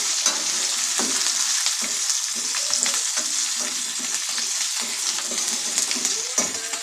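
Onions sautéing in a pan for an onion chutney for dosa give a steady, close sizzle and hiss with scattered crackles and occasional stirring scrapes throughout.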